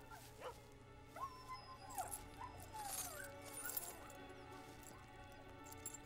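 A dog whimpers and yips in a kennel with cages, a thin rising and falling whine repeated in short bursts over a low steady background hum, moderately faint.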